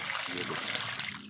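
Water splashing and trickling from a pump outlet near a borewell, a continuous close hiss of running water.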